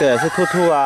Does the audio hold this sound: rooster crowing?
yes